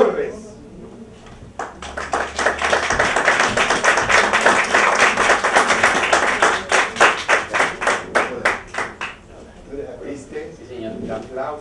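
A small group applauds, steady clapping building up then breaking into loose rhythmic claps before fading, with voices talking underneath.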